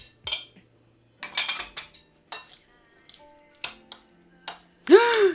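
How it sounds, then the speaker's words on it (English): Leftover chopped onion scraped off a board with a knife in a home kitchen: short, sharp scraping and clinking strokes in separate bursts with quiet gaps, close up, ending in a ringing metallic clang. "I'm gonna scrape whatever onion's left here"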